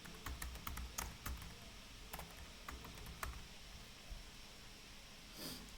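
Typing on a computer keyboard while entering a name into an online form, a fast run of light key taps in irregular bursts with short pauses, no talking.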